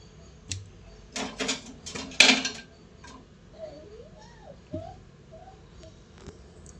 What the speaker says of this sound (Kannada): ಹಾಗೆ ಆಲೂಗಡ್ಡೆ ಎಲ್ಲ ತೊಳ್ಕೊಳ್ಳುವ ಚೆನ್ನಾಗಿ.